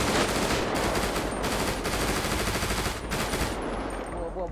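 Pistol fire in GTA 5 roleplay, a dense, loud run of rapid shots packed close together that fills the whole stretch, with faint player voices mixed underneath.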